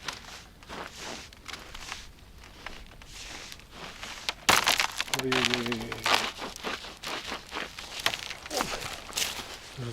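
Thin ice at the shallow, reedy edge of a pond cracks and crunches underfoot as someone walks on it during a fishing trip, with repeated close crisp snaps and crackles and a brief voice partway through.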